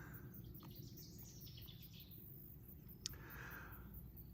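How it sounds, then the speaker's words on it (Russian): Birds chirp and sing in a village on a quiet morning, scattered short calls and tweets near and far over a steady low hum. "Послушать птичек"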